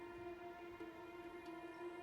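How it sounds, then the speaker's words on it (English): A train rolls along the tracks in the Factorio video game, a faint, steady, humming drone with a constant tonal whine and no breaks. "now we should be seeing the project train. Heading on down"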